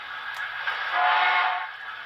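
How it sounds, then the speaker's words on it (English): An HO scale Broadway Limited T1a/T1b Berkshire steam locomotive model with a Paragon 4 sound decoder gives a short whistle toot: a single steady, moderately loud chime lasting about two seconds, heard alone. "You also have a short whistle toot on F23."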